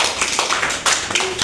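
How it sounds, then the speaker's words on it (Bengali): Schoolchildren clap loudly in a classroom, with a few uneven bursts of claps and taps over a short moment and no talking. "সবাই একটা জোরে তালি দাও তো।"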